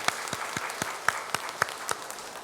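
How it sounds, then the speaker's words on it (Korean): A church congregation claps for the choir after a hymn, a short run of distinct, fairly sparse hand claps at a steady rhythm, moderately close and not very loud. "우리 감사하는 마음으로 다시 한번 박수로 격려하겠습니다."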